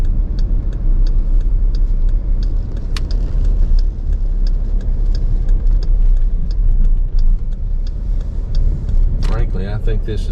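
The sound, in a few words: car driving around St. Louis toward Forest Park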